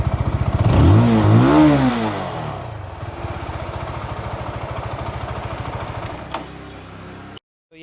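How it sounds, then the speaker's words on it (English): Benelli TNT25 motorcycle engine revving up and falling back, then settling into a steady, pulsing idle, loud and close, with a short spoken phrase near the end. "that is the exhaust note"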